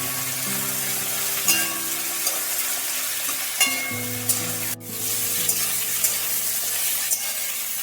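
Jackfruit seeds sizzle and fry in a pan with mixed vegetables for a vegetarian katwa data bynon, with steady crackling and scrapes from repeated stirring.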